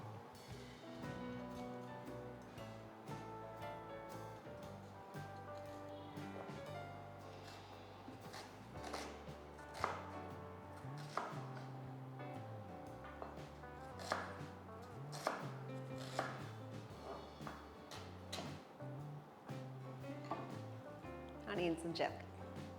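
A medium-sized onion being chopped for a chickpea salad, with knife taps on a board under background music and a speaking voice.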